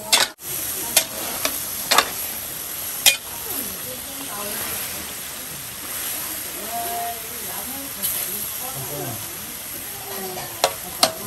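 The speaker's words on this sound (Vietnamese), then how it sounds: "cứ đảo cho nó cái cà chua nó nát một tí" Tomatoes fry in a pan, stirred with steady scraping and a continuous sizzling hiss, with occasional sharper clicks of the utensil; the cooking stays close and moderately loud throughout.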